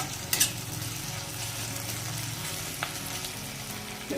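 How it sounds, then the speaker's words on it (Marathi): Spices frying in oil for a Maharashtrian dal tadka, a low steady sizzle with a few light utensil clinks, close and fairly quiet with no talking. "तर बघा असं सर्व मसाले आपले मस्त फ्राय झालेले आहेत"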